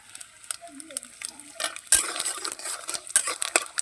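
Peanuts and five-spice seeds frying in hot white oil in a pan, with irregular clinks and scrapes of a stirring utensil over a soft sizzle, some clatters louder than others.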